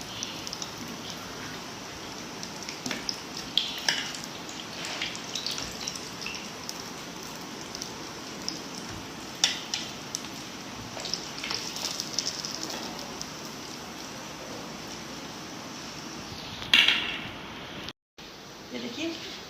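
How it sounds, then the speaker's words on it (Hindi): Pizza bread rolls frying in hot oil, a steady soft crackle and sizzle with small pops throughout, while someone talks over it. "ये देखिए माशाल्लाह से कितने अच्छे ये फ्राई हो रहे हैं"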